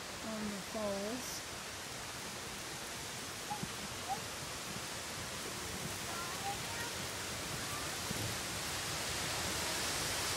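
A waterfall on the Elwha River gives off a dense, steady rushing roar that fills the whole stretch evenly. A few faint brief voices and small sounds surface over the constant wash of falling water.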